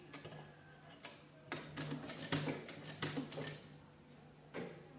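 A sewing machine stitches a cloth seat cover for a deity's seat, running in several short bursts of rapid mechanical ticking separated by brief pauses, close and fairly quiet.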